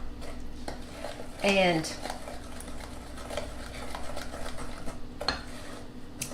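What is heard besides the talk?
mixing oatmeal pie ingredients together with a spoon in a bowl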